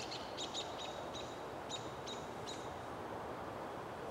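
Faint, distant birds call outdoors on a cool Canadian spring day, giving several short, repeated chirps in a loose series over a steady low background hiss.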